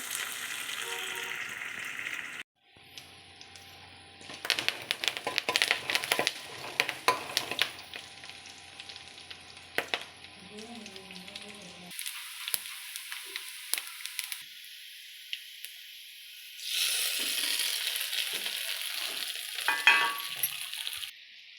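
Potato pieces for aloo bath frying in a pan toward golden brown, loud sizzling in bursts with stirring scrapes, broken by short quiet gaps.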